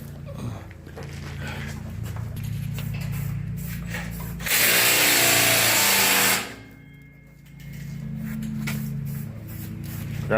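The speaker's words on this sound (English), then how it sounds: "Grinder." A grinder working on welded brackets of a Great Plains drill runs loud and steady for about two seconds in the middle, with shop noise before and after it.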